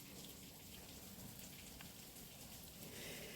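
Steady rain falling outdoors, a dense, even hiss of drops spattering on surfaces, constant and fairly faint throughout with no voices.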